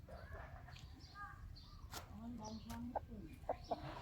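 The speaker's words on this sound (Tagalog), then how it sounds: "ito yung isang manok ko" A few short chicken clucks come near the end, fairly faint, over a quiet background with some indistinct voices.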